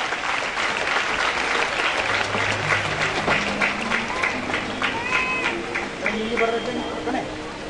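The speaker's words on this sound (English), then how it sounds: "Audience, please give them a big round of applause" Sustained applause from the audience at a school's annual sports meet as award winners are honored, many hands clapping steadily throughout, with voices and some tonal sounds mixed into the crowd.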